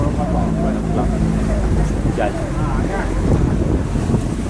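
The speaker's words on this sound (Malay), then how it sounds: "Angin pun boleh tahan." Strong wind at sea on a fishing boat roars across the microphone as a dense, constant rush, with water and hull noise beneath and faint voices partly buried in it.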